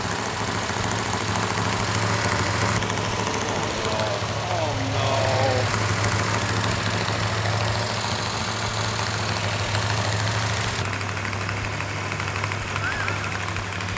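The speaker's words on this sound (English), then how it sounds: "we have the engine running exactly the way it's supposed to" A 1967 GTX 440 Super Commando V8 engine idles steadily with a low, even rumble, running continuously throughout.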